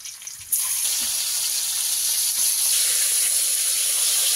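Prawns frying in a pan, a sudden loud hiss and steady sizzle that starts abruptly and carries on unbroken, close and alone.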